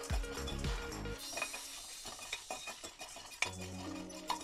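Whole spices dry roasting in a pan without oil for temple-style tamarind rice, stirred with a utensil that scrapes and clinks against the metal, with soft rustling of the spices throughout and no talk.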